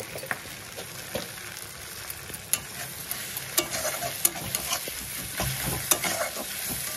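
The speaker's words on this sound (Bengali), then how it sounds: "চলো দিয়ে দিলাম পেঁয়াজ।" Onions frying in oil with whole garam masala for a sea crab curry, a continuous hiss of sizzling with sharp scraping clicks of a spatula stirring the pan, close and fairly loud.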